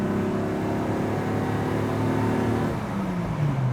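A Chevrolet Caravan six-cylinder engine revs steadily, a continuous droning hum that climbs in pitch then shifts partway through, loud and close with no talk.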